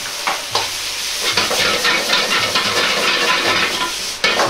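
Loud continuous sizzling as soy sauce hits a hot wok of fried rice with komatsuna and tuna over high heat, sharp bursts of hiss and metallic scraping as food is stirred.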